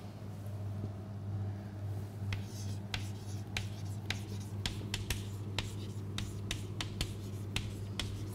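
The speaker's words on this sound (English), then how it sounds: "Let me write that on the board." A lecturer writes on a classroom board with a series of sharp, quick taps and scratches that come closer together toward the end, over a steady low hum in the room.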